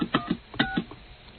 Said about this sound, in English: Let me see if I can get someone on the phone here.